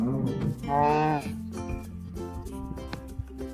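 A cow in Minecraft survival mode gives one loud, drawn-out moo near the start, followed by quieter game tones and clicks.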